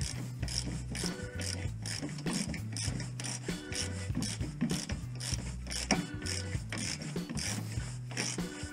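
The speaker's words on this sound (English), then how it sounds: "loosen this ratchet. That's a tight bolt to get to." A ratchet wrench clicks in quick, repeated bursts while loosening a tight, hard-to-reach bolt on a Toyota Hilux under restoration, with close, rhythmic mechanical ratcheting and some scraping.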